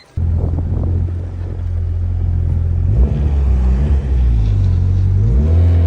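A turbocharged Honda Civic with a B18B1 engine rumbles loudly up close, revving up and down several times with a deep, throaty tone.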